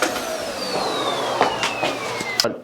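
Miele Boost CX1 Cat & Dog vacuum cleaner running on carpet, a steady close whine with a slowly falling motor tone and a few bumps and clicks as the head moves.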